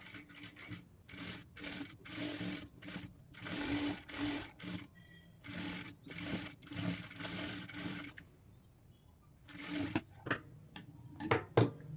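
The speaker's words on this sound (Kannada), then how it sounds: "ಅದ್ರ ಮೇಲೆ ಇನ್ನೊಂದು ಸ್ಟಿಚ್ನ ಹಾಕೊಂಬಿಡಿ" A sewing machine stitches a blouse piece in repeated bursts of rapid, close mechanical whirring, broken by brief pauses, with a louder flurry of short runs near the end.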